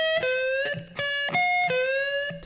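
Electric guitar plays a solo phrase from a song, repeated picked notes alternating with bent notes on the second string in a rhythmic pattern, clean-ish and close, no speech.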